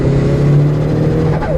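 2003 Mitsubishi Evo 8 driven on low boost, eased gently into the throttle: a close, steady engine hum with a slight rising tone near the end, heard from inside the car.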